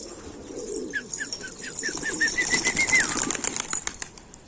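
Pigeons take off and flap around a loft while a stray bird circles overhead, a flurry of wingbeats mixed with short repeated chirping calls, fairly close and alone with no talk.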